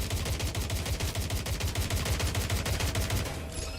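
Sustained rapid gunfire from Watch Dogs: Legion, a dense automatic burst of shots repeating steadily and loudly for the whole stretch, with no voices over it.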